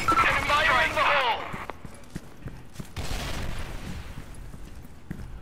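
Enemy gunfire in the online shooter Soldier Front 2, search-and-destroy match, a quick volley of shots with scattered further bursts at moderate distance amid other game sounds, heard after a stretch of speech.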